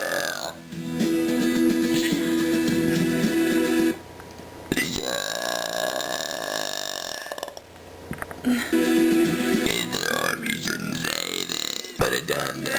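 A series of long, drawn-out burps comes in several bursts with short pauses between, loud and close, as someone belches along to a pop song.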